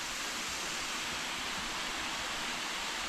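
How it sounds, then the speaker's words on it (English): Kings Bluff Falls, a 114-foot waterfall in Arkansas's Ozark National Forest, roars with a constant broadband rush of falling water heard up close, unbroken and even from start to finish. "go check out the bottom of the waterfall"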